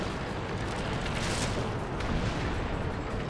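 Heavy shell impacts and blasts strike a tank in World of Tanks, a dense, continuous roar of booming fire close up with no pauses and no voices.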